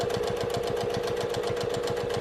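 A domestic sewing machine stitches slowly down a seam through very soft foam while making a dust cover, giving a steady, fast mechanical chatter with an even rhythm that runs unbroken at close range.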